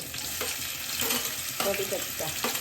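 Tomatoes tipped into a hot sizzling pan for a drumstick vegetable dish, frying with stirring scrapes and brief splashy bursts, close and fairly steady.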